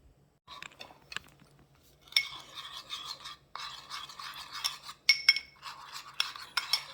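A spoon scrapes and clinks against a small bowl while oyster sauce, fish sauce, seasoning salt and sugar are mixed together, with irregular close bursts of stirring separated by short pauses.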